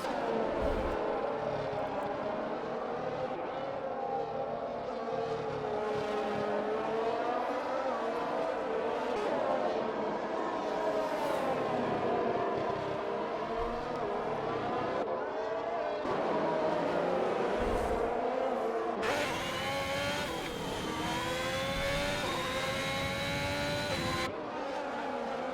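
Race cars in a sim racing game at a Brazil round roar continuously, engine pitch rising and falling through gear changes, with brief tire squeals and a louder, higher-revving car passing close near the end.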